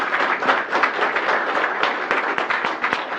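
A crowd at a city council meeting applauds steadily, many hands clapping together at a moderate distance, sustained for a few seconds without pause.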